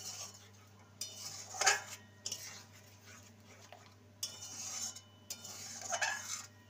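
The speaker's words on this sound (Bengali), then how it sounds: "যে পোস্তটা বেটে রেখেছিলাম সেটা দিয়ে দেব। ভালো করে নেড়ে নেব।" A spoon stirs ground poppy seed paste into a milk and pointed gourd (parwal) curry in a pan, with faint scraping and a few clinks in irregular bursts.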